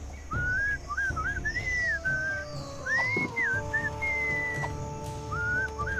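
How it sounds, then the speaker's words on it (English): A lilting melodic whistled tune in the Sam & Max adventure game, bright looping phrases rising and falling over soft background sounds, no speech. "What is that enchanting whistling sound?"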